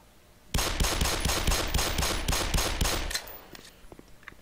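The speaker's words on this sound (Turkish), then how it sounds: "Lan üstüne şarjör boşalttım." A magazine emptied in rapid automatic fire in the Black Mesa video game, a quick even train of about fifteen close, sharp shots followed by a few fading echoes.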